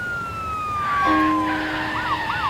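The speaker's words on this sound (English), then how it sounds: "The ambulance! It's here!" An ambulance siren sounds, starting with a steady tone before breaking into a rising and falling wail, fairly close and clear.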